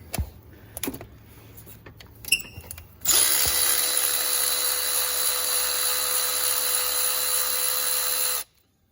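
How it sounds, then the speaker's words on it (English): Lithium-ion battery ratchet whirring at full speed after a few clicks and taps, a loud steady high-pitched electric motor whine lasting about five seconds before stopping abruptly, used on a GMC Canyon water pump job. "So this is a battery ratchet, Ella."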